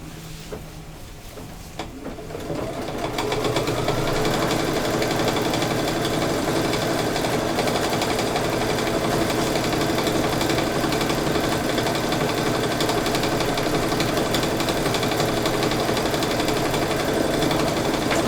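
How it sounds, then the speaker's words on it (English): A sewing machine runs continuously while background quilting, starting after a quiet moment and settling into a loud, steady, fast mechanical whir with rapid needle rhythm throughout. "now I'm going to do the background quilting"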